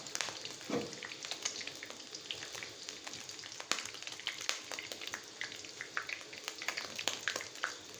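Beef stir-fried with holy basil in a pan, a loud continuous sizzle with crackling spits and scraping stirs throughout, no talk.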